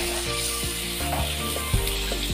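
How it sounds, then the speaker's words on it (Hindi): Chana dal and minced meat keema frying hard in a pan over a high flame, a dense continuous sizzle with occasional scraping stirs, loud and close throughout. "इसे हाई फ्लेम मैंने किया हुआ है ताकि ये अच्छी तरह भून जाए ना।"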